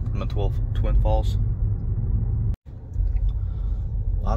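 Car driving along the narrow Road to Hana in Hawaii near Twin Falls, a steady low road rumble from inside the cabin under a person talking, briefly cutting out midway.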